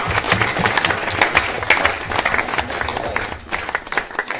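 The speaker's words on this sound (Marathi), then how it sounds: "सगळ्या टाळ्या वाजवून स्वागत करा" An audience claps in welcome of a family at a Konkan gondhal gathering, a scattered, fairly loud burst of hand claps with crowd murmur and a voice mixed in.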